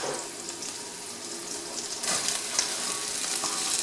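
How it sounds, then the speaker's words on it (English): Cabbage dropped into a hot pan for Indian-style cabbage, a steady sizzle and frying hiss that grows louder partway through, with light stirring scrapes and no voices. "And I'm going to add the cabbage."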